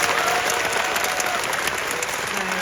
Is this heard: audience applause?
yes